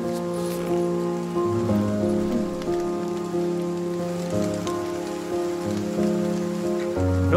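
Rain patters steadily on a street in the video game Behind the Frame, a soft, constant shower heard beneath a calm layered musical score with sustained tones.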